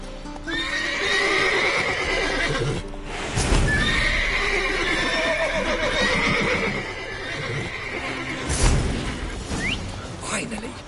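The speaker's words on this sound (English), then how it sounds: "Gotta call in the horses before they hit the cars." Horses whinny loudly several times over a steady clip-clop of hooves in the video game The Witcher 3: Wild Hunt, with a busy background mix throughout.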